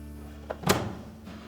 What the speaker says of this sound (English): and then we can close up the door.